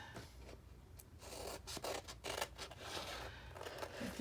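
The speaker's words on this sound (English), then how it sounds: "Okay, scissors." Scissors snipping through magazine or calendar paper up close, a run of short crisp cuts with rubbing and rustling between the snips.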